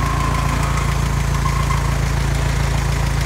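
Antique Hobart engine-driven welding machine running at a steady idle, a loud, close, continuous low throbbing engine drone with an even pulse and no talking.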